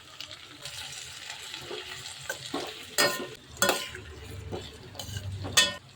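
Three chopped tomatoes sauté with onions in a pan for spicy hotel-style kara chutney, a soft continuous sizzle broken by several sharp scraping stirs of a spoon, close and without voices.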